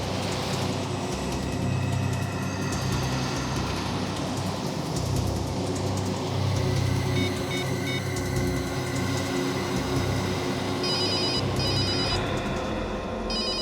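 A telephone rings with a call from an unknown new number, a steady electronic trill sounding over a low rumbling background for over thirteen seconds.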